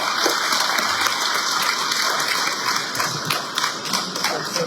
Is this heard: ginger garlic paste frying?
no